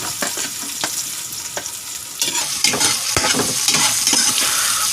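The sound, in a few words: ginger being stirred into sizzling sauté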